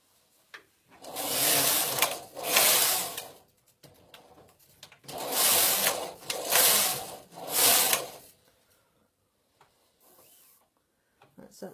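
A Passap Duomatic 80 knitting machine knitting stocking stitch, its carriage making four long, loud rasping mechanical passes back and forth with brief pauses between, close up.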